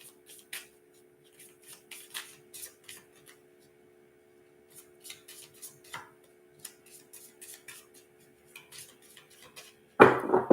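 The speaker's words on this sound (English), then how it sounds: "Let's get this shuffled up for you" Cards are riffled and shuffled in quick, crisp bursts, pausing briefly between runs, close and fairly quiet.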